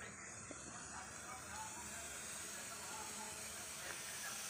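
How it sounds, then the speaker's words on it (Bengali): A pressure cooker of chickpeas vents on a home kitchen stove with a faint, continuous steam hiss that holds level and unbroken from start to finish. "এই দেখো ছোলা সিটি দিচ্ছি এখানটায়"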